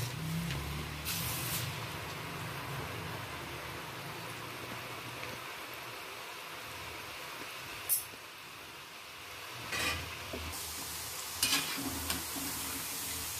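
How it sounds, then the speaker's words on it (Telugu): Murukulu, urad dal jantikalu, deep-frying in hot oil with a steady, close, continuous sizzle and bubbling hiss throughout, broken by a few brief clinks and louder bursts. "ఇది క్రిస్పీగా అయ్యే వరకు వేయించుకోవాలి"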